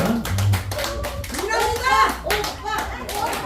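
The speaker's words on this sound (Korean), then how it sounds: "박수로 환영해 주시기 바랍니다" An indoor audience at a members' introduction event applauds to welcome a performer, with lively close clapping and children's voices and chatter mixed in.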